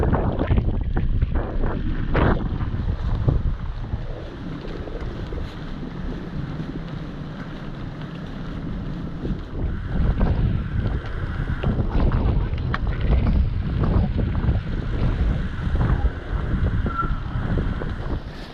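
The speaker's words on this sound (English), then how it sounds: "Wet and windy, folks." Wind and rain during a cycle tour along the Great Glen Way in Scotland: strong gusts buffet the microphone with heavy rumbling roar and crackle, steady throughout with surges, no talking.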